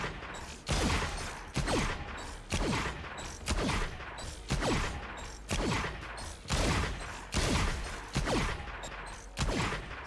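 Rapid bursts of gunfire ring out roughly every second while shooting bots in a Valorant-style aim training run with the Sheriff pistol, each sharp crack loud and close with a brief decaying tail, repeating steadily for the whole stretch.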